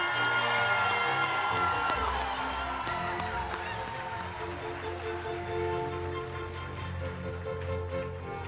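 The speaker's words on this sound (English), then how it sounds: "so let's give them a round of applause." Graduation ceremony audience cheering and whooping with scattered applause, a lively crowd roar that is loudest at the start and then tapers to a steady murmur.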